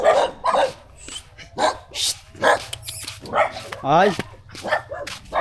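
A dog barks in repeated short bursts across the clip, close by and fairly loud, mixed with people talking and calling out in a casual home setting.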